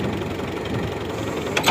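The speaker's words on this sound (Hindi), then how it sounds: "अब ये ट्राली को ऊपर उठा रहे हैं। ट्रैक्टर थोड़ा पीछे भी हटा" A tractor engine idles steadily nearby while a trolley is lifted, a continuous mid-pitched mechanical chug with a short sharper clank near the end.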